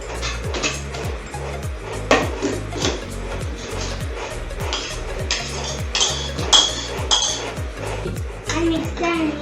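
A spoon repeatedly clinks and scrapes in a bowl while fruit salad of pomegranate and guava is mixed with honey, a busy run of close metallic taps over a low rhythmic thumping background.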